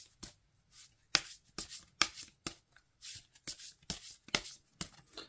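Oracle cards being shuffled by hand, a quiet run of crisp riffling bursts repeating in an uneven rhythm, close and alone with no voices.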